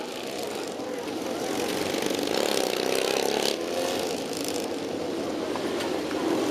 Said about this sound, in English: Motorcycles crossing over this time.